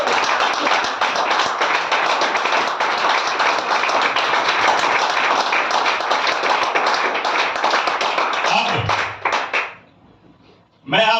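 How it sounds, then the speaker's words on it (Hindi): Loud, sustained clapping from a seminar audience, dense and continuous for about nine seconds before it abruptly tapers off into brief quiet. "तो इसके लिए मैं आपसे एक बार जोरदार तालियां चाहूंगा।"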